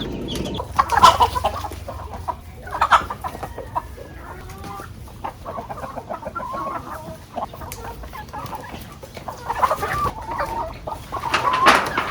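A flock of chicks and ready-to-lay hens being delivered on a farm, with continuous clucking and chatter and a few louder calls rising above it.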